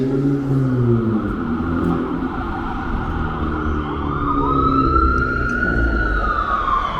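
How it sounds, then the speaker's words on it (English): A wailing ambulance siren sweeps up and down over steady traffic rumble on 17th Avenue in Bensonhurst, Brooklyn, fairly loud and sustained, no one speaking. "I hear an ambulance."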